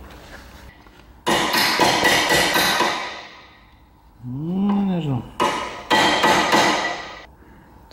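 Rapid metal-on-metal hammer blows strike the rear suspension of a Saab during a brake and suspension rebuild, in two loud clustered bursts, with a brief spoken word between them.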